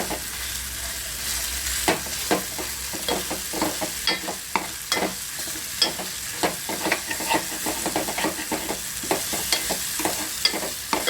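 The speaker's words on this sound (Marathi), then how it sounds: "मसाला पूर्ण भाजला ना की आपोआप त्याला तेल सुटतं" Spice masala fries in hot oil for a fresh rajma bean curry, a steady loud sizzle broken by frequent crackles and the scrape of stirring, close up with no talk.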